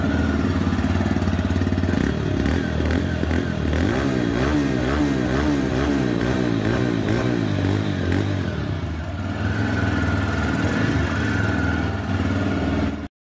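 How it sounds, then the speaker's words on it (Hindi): A 2024 TVS Raider 125 motorcycle engine starts and settles into a steady running rumble, with a few blips of revving in the middle before easing back to idle. "मैं आपको स्टार्ट करके बाइक का इंजन साउंड सुना देता हूँ"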